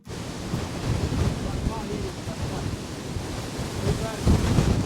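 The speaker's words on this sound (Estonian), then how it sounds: "Räme tuul ikka." Strong storm wind roaring and buffeting steadily across a forest, with broadband rumble and gusts swelling toward the end; no talking.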